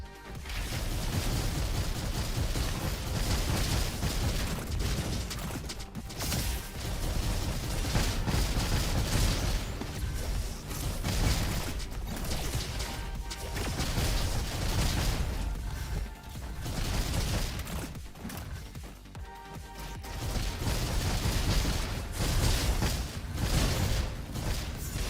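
Dual boomstick shotguns in a video game fire a dense, loud barrage of booming blasts, repeated shots running together with mechanical clatter and only short lulls between volleys.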